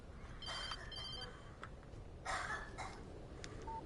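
A phone rings in the video game Alan Wake Remastered, faint electronic trilling bursts repeating in short rhythmic pulses over a low ambient hum, with no talk over it.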